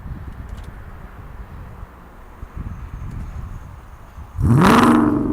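A straight-piped Audi S6 V10 barks into a sudden loud rev near the end, its pitch sweeping sharply upward after several seconds of quiet wind and outdoor rustle.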